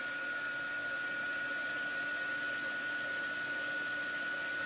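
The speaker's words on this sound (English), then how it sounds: "Now I'm going to cut my heat tool on, and it's going to sound like a little hair dryer." A small electric heat tool used for card making blows a steady, even whir like a little hair dryer, constant and unbroken from start to finish with no talking.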